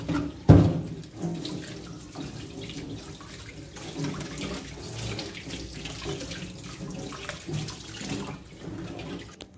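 Crab being washed with salt and tamarind water under a running tap, a steady close splash and gurgle of water in a sink with one louder splash near the start.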